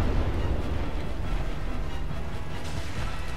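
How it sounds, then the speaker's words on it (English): Boss magic explosion attack in Dark Souls, a dense, loud rumbling blast that roars steadily through the whole moment, with no voices over it. "He just has a very quick sweep and a magic explosion appears in front of him."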